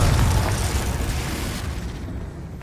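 A Confringo blasting spell explodes in the video game Hogwarts Legacy: a single loud, deep boom that rumbles and fades over about two seconds, with no talking.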